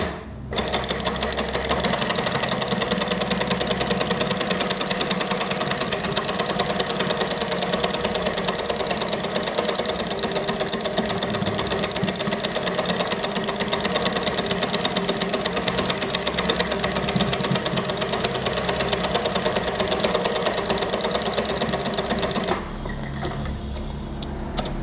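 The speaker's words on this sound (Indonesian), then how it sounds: "kalau teman-teman menggunakan alat lubang ini pada mesin high speed, silahkan pergunakan speed yang rendah saja, jangan terlalu ngebut" A high-speed sewing machine stitches a dress with a buttonhole attachment, running in a steady, dense mechanical whir for about 23 seconds before stopping, loud and close with no talk.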